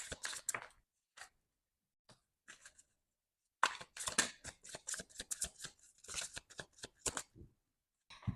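Oracle deck cards are shuffled by hand in a quiet room, brief papery flicks and riffles in short irregular bursts separated by silent pauses, close and soft.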